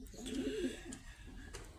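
A pigeon gives a single soft, low coo, heard faintly and up close in a quiet room.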